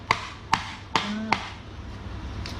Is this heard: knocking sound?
yes